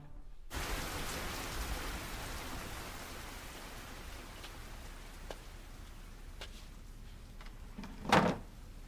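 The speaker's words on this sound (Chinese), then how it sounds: "陛下怎么在淋雨？" Steady rain falls in a soft, even hiss, quiet and uninterrupted, with a brief thump near the end.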